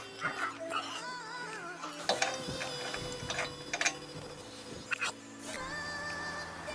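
A wheel nut is being removed from a Honda S660 with a ratcheting tool, producing quiet, irregular mechanical clicks and scrapes with a few sharper knocks.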